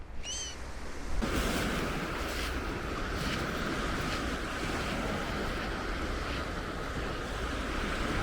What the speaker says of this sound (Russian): Звуки моря